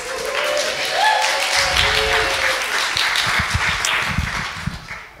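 Church congregation applauding and cheering, with a short whoop early on over a bed of rapid clapping that stays steady and close before fading at the end.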